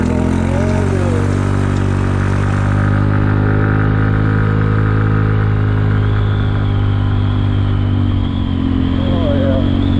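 A Kymco People 250 scooter, its exhaust leaks sealed with high-heat JB Weld, runs at a steady idle. The engine and exhaust drone is close, loud and continuous, with little change in pitch.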